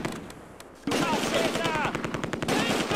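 After a quiet opening second, rapid bursts of machine-gun and rifle fire erupt in a Close Combat: A Bridge Too Far battle, dense and rattling, with faint voices mixed under the shooting.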